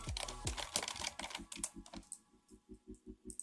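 Keys clatter on a computer keyboard as a comment is typed, quick close clicks at first settling into an evenly spaced tapping rhythm, fairly quiet and with no talking.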